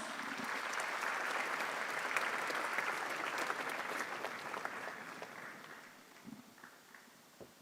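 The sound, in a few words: audience applause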